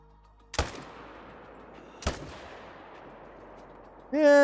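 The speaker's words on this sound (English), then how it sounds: "Oh, we need to shoot him too." Rifle shots fired at a mule deer in the hunting video game theHunter: Call of the Wild, two sharp, loud cracks about a second and a half apart, each trailing off in a long decay, followed by a brief tonal game sound.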